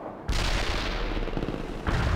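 Heavy gunfire and artillery rumble in the Soviet Assault campaign of the video game World in Conflict: after a brief quiet start, a dense, loud, continuous barrage of shots and booms rolls on without pause.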